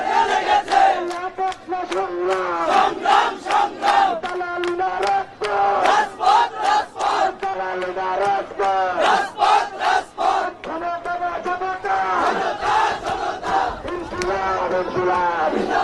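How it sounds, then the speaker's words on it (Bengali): A large crowd of NCP activists and supporters chants political slogans in loud, rhythmic unison, the call-and-response bursts repeating steadily and close by throughout. "আমরা দেখছি যেখানে স্লোগান দিচ্ছে এনসিপির কর্মী সমর্থকরা"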